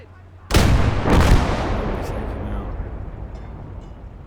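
Artillery in the Gates of Hell game fires a high-explosive shell: one sharp, loud blast, then a second close boom, with a long rumbling decay trailing off.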